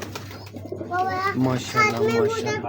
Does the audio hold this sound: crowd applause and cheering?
no